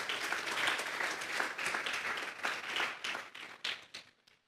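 A congregation at a youth church service claps steadily in a soft, uneven burst of applause that thins out and fades away to silence at the end.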